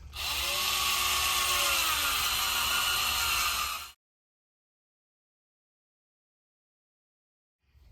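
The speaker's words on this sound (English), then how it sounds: "put it into a cordless drill and feed it in this way" A cordless drill whirs steadily at high speed for about four seconds, its pitch wavering slightly, then cuts off into silence.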